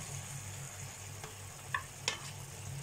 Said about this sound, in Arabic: نديها كده تقليبه حلوه ونسيبها تتسبك ثواني